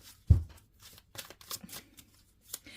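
Tarot cards being shuffled by hand, a sharp riffle burst near the start followed by several lighter, scattered card flicks and slides, close and quiet with no talking.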